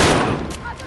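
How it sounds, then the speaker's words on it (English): A single loud gunshot from Call of Duty Modern Warfare, close and sharp with a rumbling tail that fades within a second. "Your shot have made me jump there a little bit."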